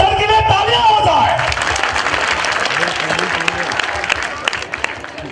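An audience at a school annual day celebration breaks into loud, sustained applause, a steady wash of clapping after a brief voice at the start.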